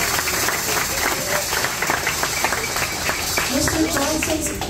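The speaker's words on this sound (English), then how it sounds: "Let's give him a round of applause." Audience applause at a jazz improvisation program at the Arsht Center, heard as a steady, dense wash of clapping that lasts throughout, with voices mixed in.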